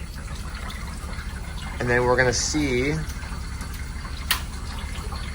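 Water drains from a Kold-Draft ice machine with a steady rushing hiss beneath a short stretch of nearby talk.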